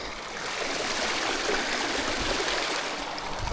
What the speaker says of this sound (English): Yeah, we got a lot of water today. There's a strong flow in that.